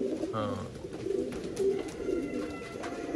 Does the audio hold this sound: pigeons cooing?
yes